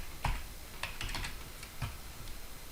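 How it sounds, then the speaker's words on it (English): Keys tapped on a computer keyboard while an IP address range is entered, a few sparse clicks with short pauses between, close and quiet. "you can manually type the IP address range up here"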